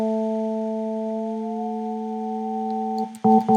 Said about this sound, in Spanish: es un sonido aperiódico. No se escucha cuando yo vuelvo a tocar estas alturas como si fueran varios sonidos, sino que es un mismo sonido